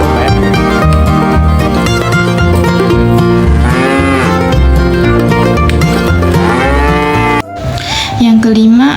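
Cattle moo loudly and at length, several overlapping drawn-out lows filling the scene, with a brief break near the end before another call.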